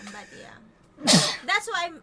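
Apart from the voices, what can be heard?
sneeze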